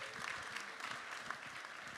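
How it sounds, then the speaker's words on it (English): Brief, faint applause from an audience at a Sunday supper event, a soft patter of clapping hands lasting a couple of seconds. "Let's give another round of applause for our president, right?"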